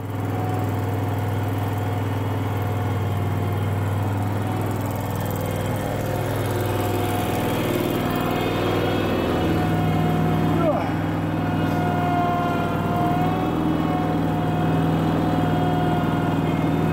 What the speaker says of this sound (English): It's a very helpful tractor.